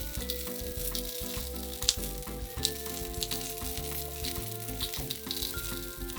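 A sauce simmering and sizzling steadily in a pan with a bay leaf, salt and black pepper, a continuous close frying hiss broken by a couple of brief clinks.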